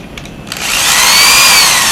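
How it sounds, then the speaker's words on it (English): Power drill driving a tool through an adapter, a short click and then a loud, steady whirring spin that rises quickly and holds for about a second and a half. "power drill,"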